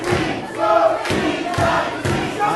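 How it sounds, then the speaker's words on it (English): A wrestling crowd roars for Team Johnny Z at an IZW Impact TV show, a loud, sustained mass of cheering voices with shouts and chant-like swells rising and falling throughout. "this crowd firmly behind Team Johnny Z here tonight"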